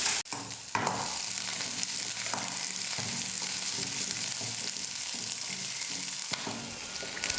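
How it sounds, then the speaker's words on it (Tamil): Garlic and small shallots sautéing in oil in a kadai, a loud continuous sizzle with rhythmic stirring scrapes close up and no talking. "பூண்டு லைட்டாக வதக்குனதுக்கப்புறமா 10 சின்ன வெங்காயத்தை சேர்த்துக்கிறேன்"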